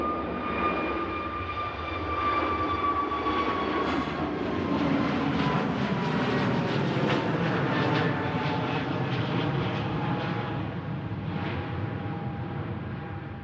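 A KLM airliner takes off from Manchester Airport, its jet engines a broad sustained roar with a high whine that falls in pitch as the aircraft climbs away, heard from a distance and holding steady throughout.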